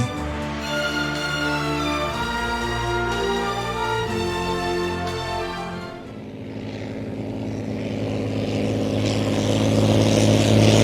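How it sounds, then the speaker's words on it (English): A steady droning boat engine with a tonal hum in the video game Evil Genius, joined midway by a broader rushing, motorized roar that grows louder toward the end, with no talking. "on this super low quality boat"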